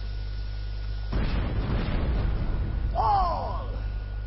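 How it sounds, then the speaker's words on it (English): Red minions blowing up in the video game Overlord II: a sudden loud burst followed by a rumbling, crackling tail of about two seconds, then a short rising game effect, with no talk. "Come on, explode, explode."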